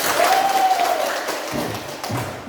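Classroom of students clapping on cue from their teacher during a morning lesson; a short, fairly close burst of applause, loudest at first and thinning out over about two seconds, with a faint voice near the start.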